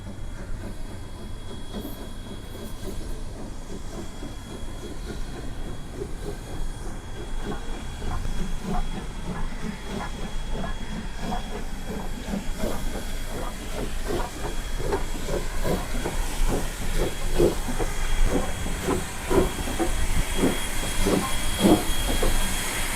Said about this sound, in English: Here comes the train, Dory.